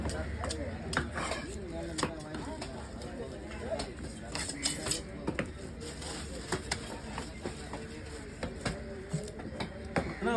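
A knife chops a fish into pieces with sharp, irregular thwacks against a board, repeated quickly throughout, while people talk close by.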